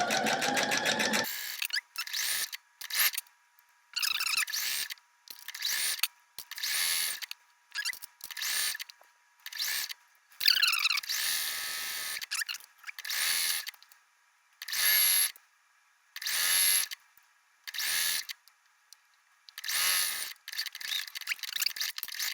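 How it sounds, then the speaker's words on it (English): A sewing machine stitches scarf fabric along an old stitch line for a kimono refashion, running in many short, rapid bursts separated by brief pauses, close and fairly loud with no talking. "now I can just follow my old stitch line"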